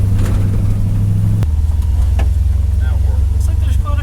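A 1955 Chevy truck with an LS swap engine cruises into Atlanta Motor Speedway, its deep, loud, steady engine drone shifting pitch once as it changes gear, with people talking over it.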